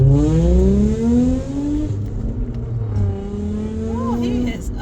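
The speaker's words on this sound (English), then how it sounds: "I see some people just like having their car so noisy like that" A loud Nissan 350Z's engine revs and accelerates in traffic on a highway, rising and falling harmonic tones running throughout, with passing-car noise around it.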